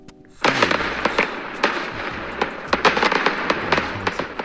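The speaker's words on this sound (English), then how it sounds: "favorite one. Fireworks." Fireworks bursting outdoors under a cloudy sky, a rapid series of sharp cracks and bangs at irregular intervals over a continuous crackling rumble, loud and fairly close, with no voices.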